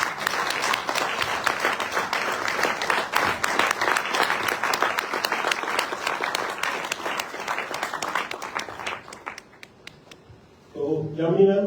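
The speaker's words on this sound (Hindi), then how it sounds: "जोरदार तालियों से हम स्वागत करेंगे।" Loud, sustained applause from a crowd at a panel discussion on women entrepreneurs in direct selling, many hands clapping together, fading out near the end as a voice begins speaking.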